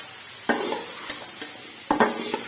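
Fried chicken tipped into a pan of tomatoes and stirred, a close sizzle broken by a few sharp scraping clatters of the spoon against the pan, no talk.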